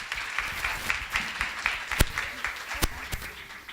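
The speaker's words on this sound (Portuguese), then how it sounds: "Aplausos para a Bela." Moderate applause from an audience at a talk on women's entrepreneurship, scattered hands clapping at a middling level, with a few sharp, louder claps standing out nearby.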